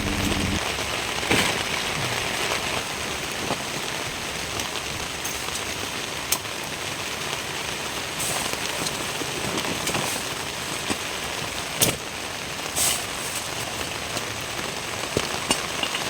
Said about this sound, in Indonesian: Hujan masih turun, suara air sungai mulai berubah.